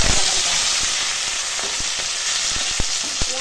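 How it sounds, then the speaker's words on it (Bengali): Chopped onion and green chilli hitting hot oil alongside a bay leaf, giving a loud, dense, continuous sizzle close by, with occasional soft taps of a spatula against the pan. "এবার দেবো কেটে রাখা পেঁয়াজ আর কাঁচা লঙ্কা"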